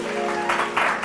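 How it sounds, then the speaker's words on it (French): Brief burst of audience applause for a candidate on a French-language Senegalese radio quiz show, dense broadband clapping sustained throughout with swells near the middle and end. "donc bravo, on applaudit pour"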